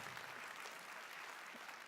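An audience claps, a steady wash of applause that holds evenly at moderate distance for the whole stretch.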